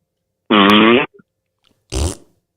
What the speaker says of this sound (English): Thank you for calling and farting.